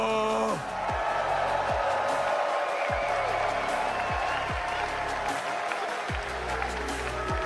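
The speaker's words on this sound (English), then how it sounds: "you heard the crowd roaring a lot of times for SSG here" A large arena crowd at the Rocket League World Championship roars and cheers in a loud, sustained wash, with repeated sharp whooping swells cutting through it, under the steady mix of the event broadcast.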